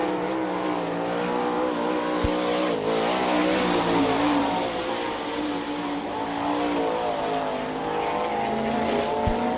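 A Hampshire Motorsports sprint car from Benton Ridge, Ohio roars around a speedway oval, its engine note rising and falling as it passes with steady, loud race-track noise.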